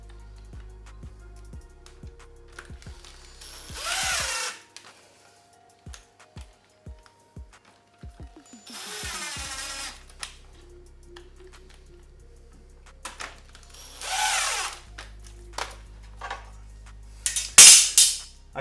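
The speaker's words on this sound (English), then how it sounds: "If you apply too much pressure and too much speed with your drill, these vents are plastic, you will crack it" A handheld drill drives screws through plastic vents on a flat-pack reptile enclosure in several short, slow whirring bursts that rise in pitch, separated by small clicks and taps of handling against a quiet electrical hum.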